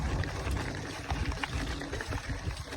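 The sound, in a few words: Ambo waterfall flowing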